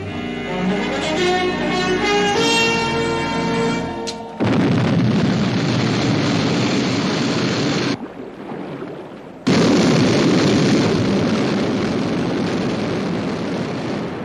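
Sky 1 interceptor aircraft lifting off: after a few seconds of tonal music, a loud, steady roaring thrust fills the air, dips briefly, then surges back at full strength.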